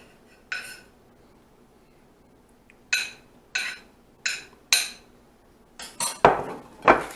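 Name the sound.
scooping rice into a dish for veggie enchiladas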